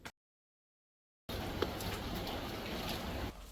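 Rain falling outside, a quiet, steady hiss with scattered faint patters that starts after a stretch of silence and continues evenly until the end.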